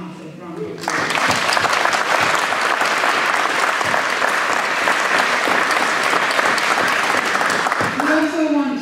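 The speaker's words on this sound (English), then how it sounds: "I think that deserves a massive round of applause" A large audience at a 2015 launch event for a Gypsy, Roma and Traveller toolkit breaks into loud, sustained applause that fills the room for several seconds before fading.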